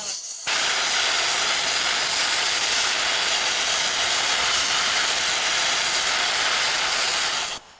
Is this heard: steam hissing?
yes